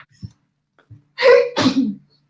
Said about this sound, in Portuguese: Ai, gente, que espirro.